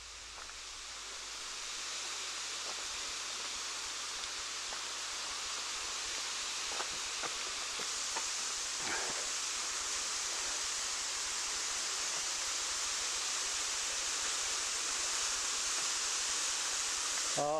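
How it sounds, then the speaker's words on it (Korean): Dai waterfall, about 30 m high, in the Nahal David valley, pours as a steady broadband rush of falling water, continuous and fairly loud throughout, with a few faint rustles and no speech. "저기 다이 폭포가 보이고 있습니다."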